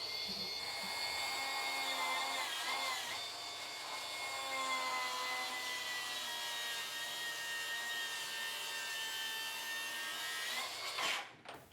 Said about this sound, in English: I took out my track saw and trimmed off a 1/2 inch on each side